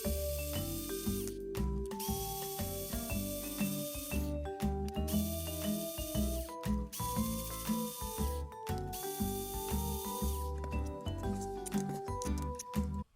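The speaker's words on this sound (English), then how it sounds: "You can remove the transmission housing by removing 5 screws." Screws being backed out of an RC car transmission case with a power driver, a series of close, loud ratcheting whirs in short bursts separated by brief pauses, no talking.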